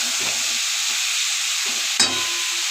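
Cauliflower and potatoes frying in oil in a wok, a steady hiss of sizzling with soft intermittent stirring knocks and one sharp clatter near the end, no voices.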